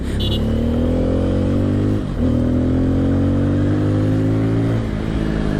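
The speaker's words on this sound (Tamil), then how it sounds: "வண்டி ஸ்பீடு ஏற்ற உங்களுக்கு வந்து அந்த எக்ஸாஸ்ட் நோட் வந்து பயங்கரமாக ஏறிட்டே போகுது" A 2022 Bajaj Pulsar N250 motorcycle engine revs up with a rising exhaust note that climbs steadily. There is a brief dip for a gear change, then it keeps pulling loud and close.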